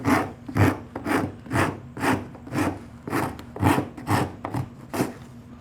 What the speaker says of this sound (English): The other technique is to use the rasp to do all the moving.